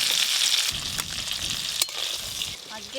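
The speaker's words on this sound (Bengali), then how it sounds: "একদম হালকা করে ক্যাপসিকামগুলো ভাজবো।" Capsicum fries lightly in a pan with a constant close sizzle, interrupted by occasional stirring scrapes and a brief clink, fairly loud and without talking.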